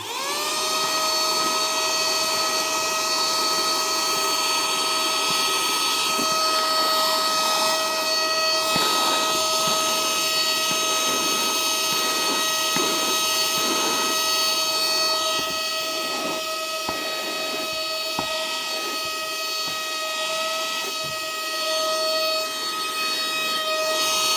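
A 7-in-1 cordless handheld vacuum cleaner runs steadily with a high, tonal motor whine, close and loud, as it sucks up fine debris with small rattling ticks throughout.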